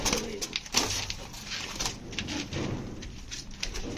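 Punjabi Malwai pigeons coo softly in a loft, low murmuring calls mixed with faint rustles and knocks, fairly quiet, with no clear talk.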